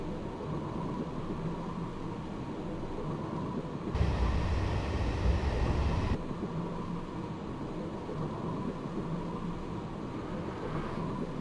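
A train rolls steadily through the Black Forest's Hell Valley railway in Train Simulator, a constant low rumble of wheels and engine with a louder, brighter stretch partway through, heard alone without talk.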